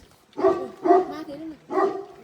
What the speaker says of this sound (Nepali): हाम फाल्छ यार भोटे कुकुर